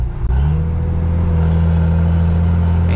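A heavy loaded truck engine drones loudly and steadily at low pitch after a brief dip, downshifted and engine braking on a mountain descent.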